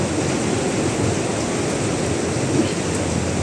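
A heavy downpour driven by strong wind roars across an open public market in Angono, Rizal, a dense, loud and unbroken wash of rain noise filling the whole moment.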